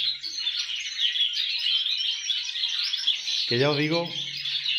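A canary mimicking a goldfinch's song trills in bright, continuous high chirps, with a lower descending warble near the end while someone speaks over it.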